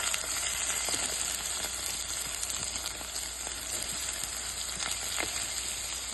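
Hot oil sizzling steadily in a pan, a loud continuous hiss with small crackles and pops and no talk over it.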